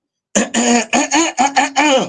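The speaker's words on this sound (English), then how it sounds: "Let me clear my throat." A man clears his throat repeatedly in a quick series of gruff, rasping bursts, close and loud against silence.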